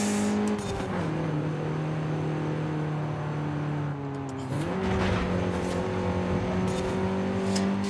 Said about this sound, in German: mit seinen 75 PS, die er nur hat, fährt er sehr spritzig